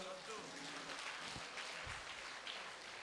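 Audience clapping at a meditation rally gathering in Ongole, a steady, fairly soft patter of many hands that runs through the whole moment with some voices underneath.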